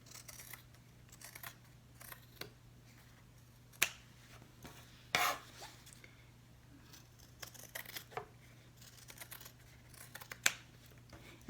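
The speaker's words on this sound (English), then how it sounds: "You could probably trim the sides if you want to a little bit." A paper slip pocket has its sides trimmed with scissors, producing a few sparse, quiet snips and paper rustles spread out over a low, steady background hum.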